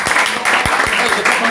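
A church congregation in Bafoussam claps in praise, loud continuous applause close by, mixed with voices.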